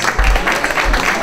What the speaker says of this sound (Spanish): fuerte el aplauso para ellos, ellas.